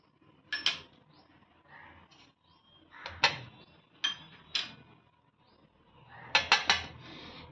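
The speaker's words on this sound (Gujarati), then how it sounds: "તો અહીંયા આપણે બધી સામગ્રી મિક્સ કરી દઈશું." Masala ingredients, including finely chopped tomato, are stirred together in a bowl for stuffed vegetables, giving a few separate clinks and scrapes of a spoon against the bowl with quiet pauses between them, close and fairly soft.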